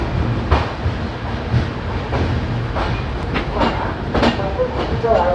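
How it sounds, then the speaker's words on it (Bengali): The New Delhi–Malda Town Express rolls into Varanasi Junction with steady rumbling and repeated wheel clatter, heard close and fairly loud throughout, with faint squeaks near the end. "ট্রেন এসে পৌঁছালো উত্তরপ্রদেশের বারাণসী জংশন"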